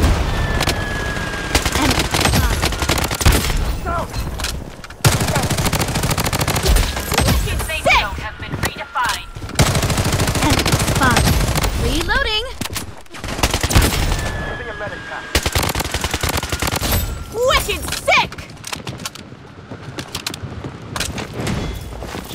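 In the video game Blood Strike, gunfire crackles in long, dense bursts of rapid automatic fire, with single heavier booms mixed in. It stays loud and continuous through most of the stretch, with short pauses, and voices call out under the shooting.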